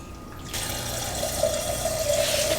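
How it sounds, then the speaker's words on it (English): Water runs from a tap into a bowl holding paneer and butter, a steady splashing stream that starts abruptly and keeps filling, with a rising tone as the level climbs, close and alone. "Make sure the paneer is covered in the water all the way."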